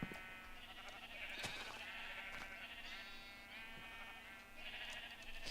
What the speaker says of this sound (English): So we're going to go ahead and shear some sheep